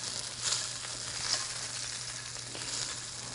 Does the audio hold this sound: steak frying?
yes